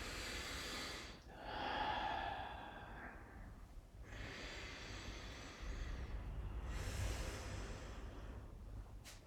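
Slow, deep breaths during a yoga practice, a long inhale and exhale followed by another, breathy and close with no words spoken.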